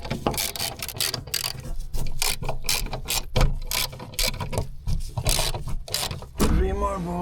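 Ratchet wrench clicking in rapid bursts while loosening bolts on the sunroof frame of a MINI F56, close and fairly loud, with brief pauses between runs of clicks.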